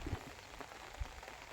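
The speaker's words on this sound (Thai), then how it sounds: "ฝนตก" Steady rain falling over a rice field behind a house, a soft continuous patter with faint scattered drops, quiet and even throughout.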